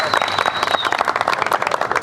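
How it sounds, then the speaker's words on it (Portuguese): Applause from a festival audience for the staff working at an Afro-Brazilian cultural evening, a steady busy patter of many hands clapping close by, with some crowd voices mixed in. "uma salva de palmas para vocês que estão trabalhando nesse festival"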